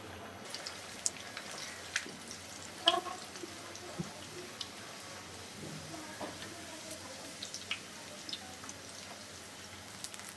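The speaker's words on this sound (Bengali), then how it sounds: "তেল গরম হয়ে গেছে, আমি দিয়ে দেব।" Rangila luchi, a colourful puffed flatbread, sizzles in hot oil, a faint steady crackle with scattered pops and spits, while someone speaks softly in the background.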